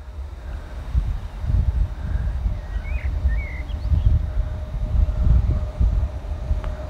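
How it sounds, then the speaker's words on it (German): A Class 186 Alpha Trains locomotive slowly pulls its train away and crosses toward the middle track, giving a steady, low, rolling rumble with a faint whine and a few distant bird chirps. "Langsam setzt sich der Zug wieder in Bewegung."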